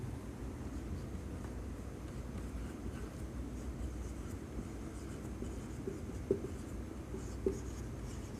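A pen scratches across paper while notes are written out, a soft continuous rubbing with a couple of small taps, quiet and close with no talking.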